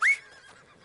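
A horse in the video game Red Dead Redemption 2 gives a brief, sharp neigh at a stable, loud at first and trailing off quickly into quiet.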